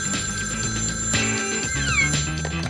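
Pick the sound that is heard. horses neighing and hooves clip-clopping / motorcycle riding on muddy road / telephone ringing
telephone ringing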